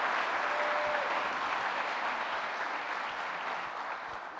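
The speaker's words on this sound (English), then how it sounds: "Let's give them a big round of applause." Steady, full audience applause at a university state-of-the-university address, a dense wash of many hands clapping continuously and slowly easing off, with no talking over it.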